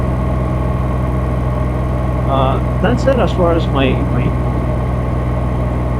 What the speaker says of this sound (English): hopefully we can amplify that noise, the exhaust sound, with aftermarket pipes